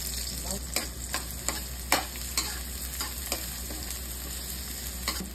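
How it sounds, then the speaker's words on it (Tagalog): Onion and garlic sautéing in hot oil in a pan, a low steady sizzle punctuated by regular scraping clicks of a utensil stirring, fairly quiet and close. "Maglagay ng mantika sa kawali, painitin muna bago maggisa."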